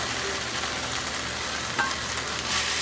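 Tofu and broccoli stir fry sizzling steadily over high heat while being mixed in a pan, one brief clack of a utensil near the middle, no talking.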